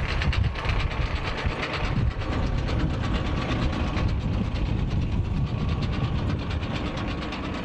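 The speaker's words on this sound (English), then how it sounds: "The Vertiseed's a very close centred seeder, seeding at around 30 millimetre centres" A Vertiseed close-centred seeder working across a football pitch at about 30 mm centres gives a steady, loud mechanical clatter with ratcheting, gear-like rattles and a low rumbling drone throughout, with no voices.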